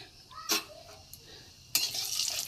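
Whole spices such as cloves are dropped into hot oil as the tempering for potol kaliya, a pointed gourd and potato curry. A brief sharp crackle comes first, then a second burst swells into a steady close sizzle.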